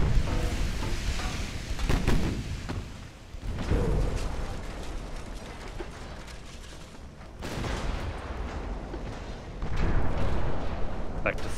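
Torpedoes strike a warship in the naval battle game Ultimate Admiral: Dreadnoughts, giving deep, rumbling explosive booms that swell in several heavy bursts over a continuous roar of distant gunfire and battle noise.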